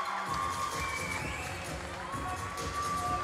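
An indoor crowd at the 2014 IPC Swimming European Championships in Eindhoven cheers steadily, a broad echoing roar of voices and shouts holding at moderate distance throughout.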